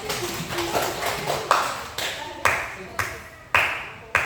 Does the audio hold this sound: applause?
yes